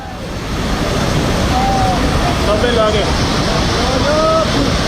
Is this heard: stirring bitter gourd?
no